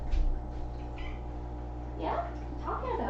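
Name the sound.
black cat meowing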